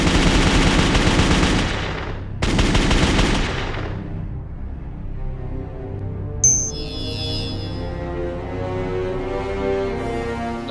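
A 9mm handgun fires Civil Defense 50 grain hollow point ammunition. A sharp, loud burst of reports is cut off after about two seconds and leaves a long, decaying ringing tail, with a faint high click near the end.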